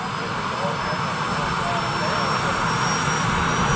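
A steady, loud whine of an EC-135 helicopter's rotors and turbine engine drones continuously close by, with a high tonal whistle above the roar.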